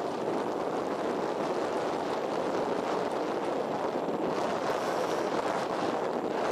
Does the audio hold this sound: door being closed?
no